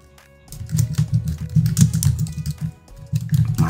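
Someone types on a computer keyboard, making rapid close-up clicks in quick runs with a brief pause partway through and no talk.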